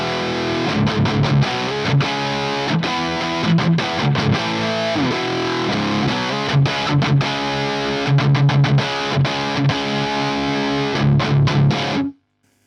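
Electric guitar played through a Diezel VH4 amplifier, a distorted riff of chugging palm-muted notes and ringing chords, loud and continuous, ending abruptly.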